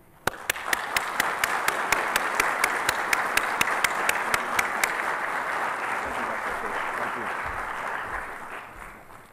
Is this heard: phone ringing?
no